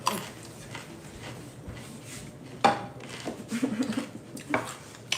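Dishes and cutlery clink while food is plated, scattered sharp clatters and scrapes of plates and utensils standing out over a quiet room, with a few louder knocks near the middle and end.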